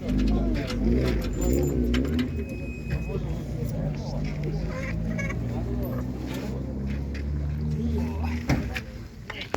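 Pigeons cooing softly at an animal market, among steady background noise and people talking nearby, with occasional clinks and rustles.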